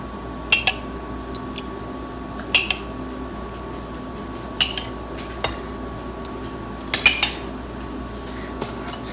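Plum cake batter is mixed with caramelized sugar in a bowl, with a utensil clinking against the sides in short paired knocks every couple of seconds over a faint steady hum.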